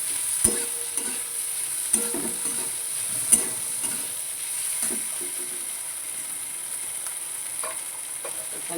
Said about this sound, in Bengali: নেড়ে নেই, ভাজা একটু নেড়ে নিই।